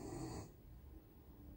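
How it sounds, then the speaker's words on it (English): A pet dog snores close by: one soft, breathy snore, then quiet, raspy breathing settling into the room. "that's my dog snoring."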